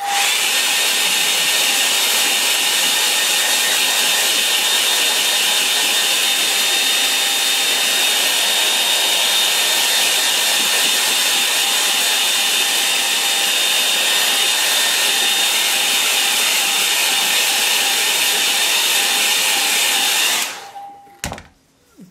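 A hair dryer blows on wet paint on a landscape painting, a loud, steady whirring roar held for about twenty seconds before it clicks off abruptly, no voices.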